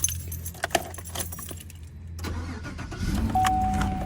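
Keys jangle and click near a Chevy Silverado pickup, and then its engine cranks over and catches into a steady idle, close and moderately loud, with no talking.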